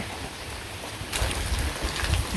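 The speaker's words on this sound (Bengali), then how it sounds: "তা আবার এই যে গুড়ি গুড়ি শুরু হয়েছে" Soft, steady patter of light drizzle in a village, fairly faint, with a slight rise in the hiss partway through; no voices.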